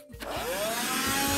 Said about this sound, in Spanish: Después de que ha pasado ese tiempo, cogemos la aspiradora